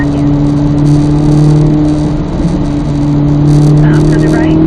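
A car lapping a race track holds a steady, loud engine drone that swells slightly near the end, heard from inside the cabin while an instructor's voice talks over it.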